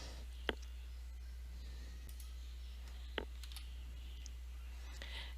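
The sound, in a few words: computer keyboard typing and Enter key press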